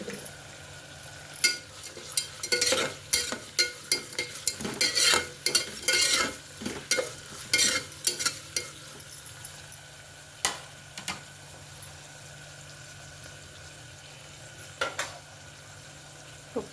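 Vegetables stirred in a pan with ginger garlic paste, rock salt and turmeric while making soya keema, busy rhythmic spatula scrapes and knocks over a faint sizzle, thinning to scattered strokes toward the end.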